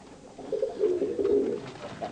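A male pigeon coos in courtship, a single close, soft rolling coo lasting about a second over quiet background.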